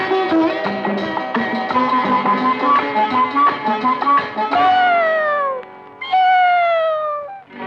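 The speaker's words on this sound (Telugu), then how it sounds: "అందాల ఓ పిల్లి అరవకే నా తల్లి" A cat meows loudly in a series of drawn-out, falling cries over a musical backing within a song, the meows stretching longer and clearer near the end.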